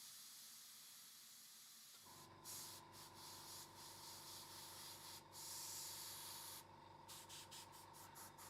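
An airbrush sprays paint onto a tabletop wargaming miniature's shoulder plate. A steady close hiss starts after a quiet opening and runs over a low compressor hum, swelling in several short bursts.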